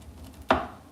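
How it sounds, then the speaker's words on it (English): A sharp knife chops carrots on a cutting board in a kitchen, a single crisp close chop standing out over faint background noise. "I'm gonna cut my carrots because it takes longer to cook."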